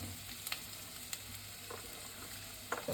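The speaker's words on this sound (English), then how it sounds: "I am adding the onions, cut onions." Cut onions and garlic fry in a hot pan with a steady, soft sizzle and a few light clicks, faint and close with no voices.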